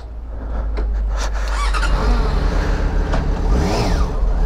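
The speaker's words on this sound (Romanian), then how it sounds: "ce scârție frânele astea, spray de disc ar trebui" Brakes on a Suzuki car squeal while it drives, with high squeaks rising over steady road and engine rumble inside the cabin, fairly loud and continuous.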